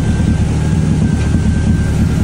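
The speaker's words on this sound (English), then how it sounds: "the fact that it now runs, and after a bit of tweaking, it idles kind of okay" A Ford Orion ST170 conversion engine idles with a steady, loud, continuous rumble, close and without talk.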